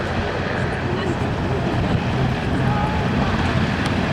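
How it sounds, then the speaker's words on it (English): Helicopters ground taxi on a flight line after a display, including a Sea King. A steady, loud rumble of rotor and engine noise runs throughout with wind buffeting and no break. "they're going to be ground taxiing back into their parking slots"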